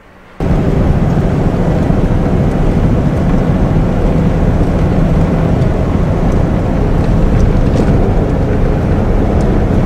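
A classic Ford V8 Pilot car on the road, its engine a loud, steady low rumble with road and wind noise that starts abruptly and holds constant throughout, no talking.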